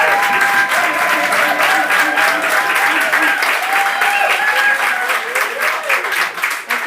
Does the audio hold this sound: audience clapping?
yes